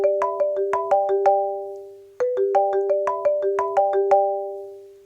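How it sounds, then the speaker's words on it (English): The iPhone Marimba ringtone is played on a real marimba: bright, resonant mallet notes ring out in the familiar melodic phrase, which is heard twice. Each note decays cleanly, and there is no talking. "iPhone Marimba ringtone."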